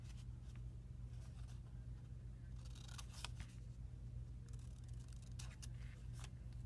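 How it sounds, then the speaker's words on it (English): Paper being cut along score marks to trim corners for an accordion journal: quiet, intermittent snips and scrapes in short bursts over a low background hum. "you just follow the score marks to cut those out"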